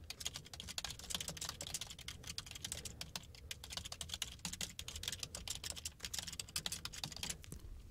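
Steady, rapid typing on a computer keyboard while a blog post's title and content are entered, dense key clicks continuing for the whole stretch with no talk.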